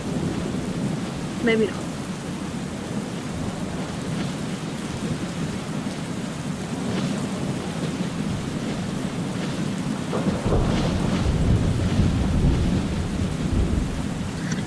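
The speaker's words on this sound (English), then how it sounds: "Oh, this metal square does get hit by lightning." Thunder rolls continuously over steady heavy rain in a stormy video game scene, with a louder crack of lightning near the end and brief speech heard.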